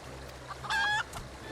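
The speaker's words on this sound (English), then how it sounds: "I tamed a rooster and painted it green" A rooster clucks in Final Fantasy XIV, a short, clear burst of fowl calls in the middle against a steady low game hum.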